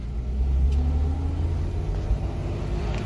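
A small car's engine rumbles low and steady in first gear, a mid-pitched drone holding fairly close throughout with a slight swell early on as it pulls away, no voices over it.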